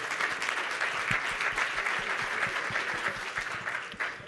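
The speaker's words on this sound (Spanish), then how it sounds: "Fuerte aplauso para ellos y para Oriol," A conference audience at a regulation panel debate gives the speakers sustained applause, many hands clapping steadily and fairly loudly, easing off toward the end.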